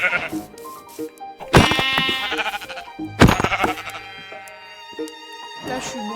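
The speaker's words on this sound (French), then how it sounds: "là, il y a des moutons" Sheep bleating in a survival video game, a few loud wavering bleats spaced apart and layered over soft background game music.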